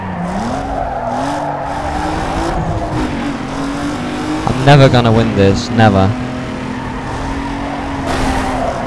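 Race car engine in Need For Speed Underground 2, a loud revving drone that rises and falls, with a burst of squealing, skidding tyres midway; someone talks over it.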